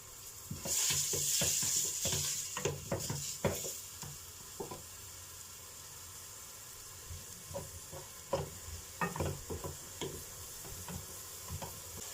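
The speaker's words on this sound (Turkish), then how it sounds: "Soğanlarımız pembeleşinceye kadar bekliyoruz." Onions frying in a cup of oil for bulgur pilaf, a steady hiss and sizzle with a louder burst early on, then irregular scraping stirs and clicks of a spoon against the pan, nearby and without speech.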